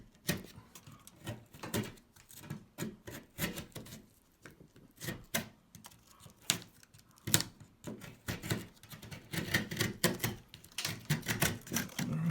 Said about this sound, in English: Take a knife like this and just cut the rest because we're on a stud.